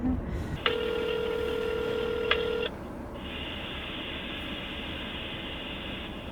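A telephone gives a steady electronic ring tone, followed by a long, flat answering-machine beep in a quiet room.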